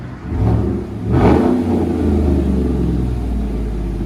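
A 2015-2020 Chevy Suburban with a 5.3L V8 and aftermarket exhaust revs up close by, a deep throaty roar climbing twice before settling into a loud steady rumble, with no talking.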